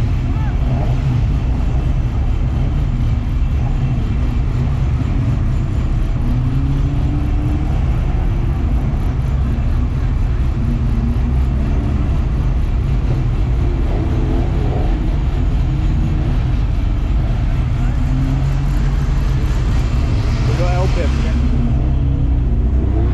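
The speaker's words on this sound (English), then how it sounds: "So that's the pickups just starting to go out onto the track to go and do warm up" Racing pickup trucks roll out onto the Brands Hatch circuit for warm-up, making a loud, continuous engine rumble with shifting tones while a person talks over the noise.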